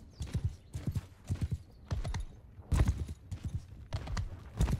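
Rhythmic clip-clop of horse hooves in the video game Mount and Blade II: Bannerlord during a siege, in quick, steady bursts of beats, fairly close, with a brief whinny-like tone and no talking.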